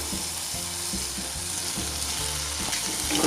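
Boiled potato pieces drop into a hot pan of frying spices, a steady close sizzle with soft scraping and stirring underneath and a background tone, no talking.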